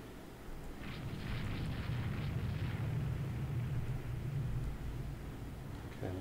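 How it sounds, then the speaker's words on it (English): Several bomb hits explode in the naval strategy game Rule the Waves 2, a sustained low rumbling roar of blasts under a steady hiss, continuous and moderately loud throughout. "More dive bombers going in. Two bomb hits. Another bomb hit."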